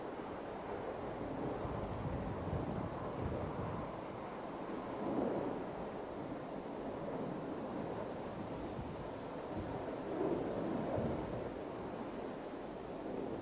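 Blustery wind buffeting the microphone at London Heathrow Airport, a continuous rushing roar with stronger gusts swelling now and then, no voices.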